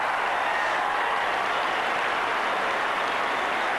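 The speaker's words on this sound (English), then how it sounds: "the crowd's going berserk at the prospects of Alistair Lynch kicking a goal here" A packed stadium crowd at a 1997 Australian football match between Brisbane and Sydney roars continuously, a dense, loud, unbroken wash of cheering with no clear break.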